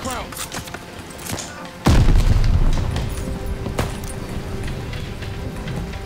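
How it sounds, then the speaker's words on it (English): Gunfire in the video game Call of Duty: Vanguard, with a heavy boom near two seconds giving way to a dense, rumbling spray of shots under faint voices. "this thing's recoil is terrible. I don't even know what I'm shooting at."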